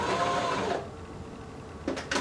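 A sewing machine running a straight stitch along a pillow seam, a steady close whirring buzz for most of a second, then quiet, then a couple of short bursts as the needle starts again; no talking.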